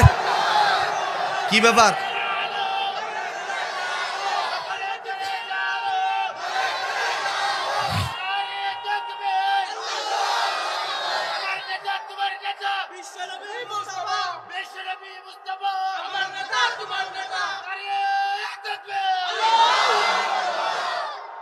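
A large gathering at a Bengali religious sermon roars back in repeated collective shouts answering a Naray-e-Takbir call, loud massed voices swelling and falling in waves, with a voice speaking between them.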